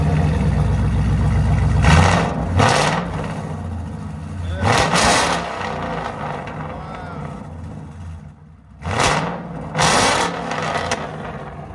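A 2013 Ford Mustang GT 5.0L V8 with Solo Performance exhaust revs hard several times, loud rising blasts over a rumbling idle, close by, with people talking between the revs.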